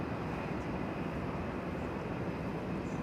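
Boeing 747-8 freighter at DFW Airport at night, a steady far-off jet rumble, even and unbroken for a few seconds with no voices.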